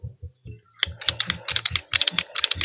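Blue sprinkler pipe being cut outdoors: a close, rapid run of sharp ratcheting clicks that start softly and grow busier and louder.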